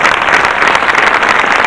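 Audience clapping at a spiritual discourse gathering in Chalisgaon, a dense, steady wash of many hands filling the whole short moment, close and fairly loud with no talking over it.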